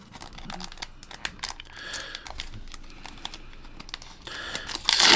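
Foil trading card packs being torn open by hand, the wrappers crinkling and crackling in quick close bursts, with no talking.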